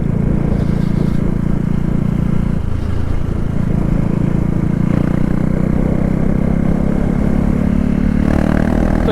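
A KTM Duke 390 motorcycle runs without its stock exhaust, giving a loud, continuous, close engine drone with a rough, rumbling texture for the whole stretch.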